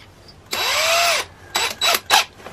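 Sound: power drill drilling hole in maple tree

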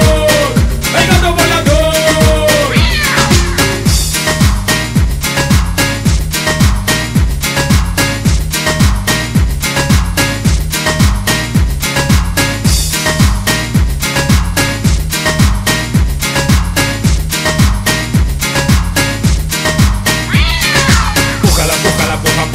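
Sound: cat meowing in a song

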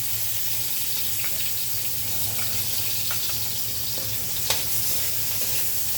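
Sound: onion and garlic sizzling in a frying pan

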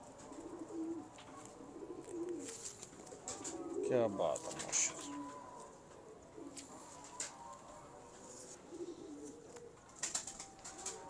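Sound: pedigree pigeons cooing

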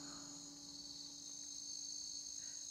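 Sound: crickets chirping

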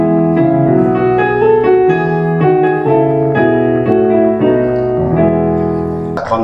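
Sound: Dutch national anthem played

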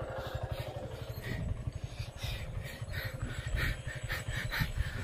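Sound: motorcycle running

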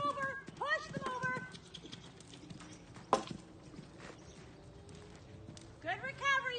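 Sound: horse hooves while jumping a fence

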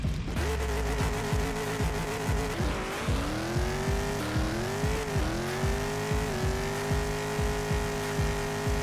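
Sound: Pro Modified drag race car making a 5.68 second pass

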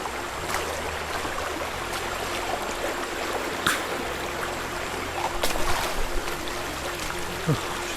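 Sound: stream of rainwater flowing on forest path

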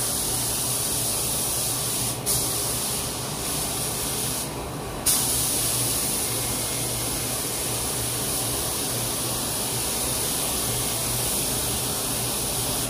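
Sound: spray gun applying clear coat to a 1976 car

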